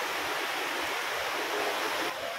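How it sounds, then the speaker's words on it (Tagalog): Waterfall at Villa Escudero, a steady, loud rush of falling water heard up close, a dense hiss without pauses, with no voices over it. "di ko talaga matigilan i-video yung falls"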